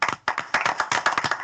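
Attendees at a county board of supervisors meeting give a short round of applause, dense overlapping claps filling the room at close range with brief dips between bursts.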